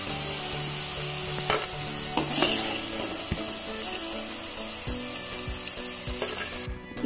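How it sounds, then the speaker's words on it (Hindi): Potato pieces frying in a pan for poha, cooked until golden brown, with a steady close sizzle broken by a few scraping stirs and clunks and a brief hiss near the end; no one speaks. "हमें इसे गोल्डन ब्राउन होने तक की फ्राई करना है।"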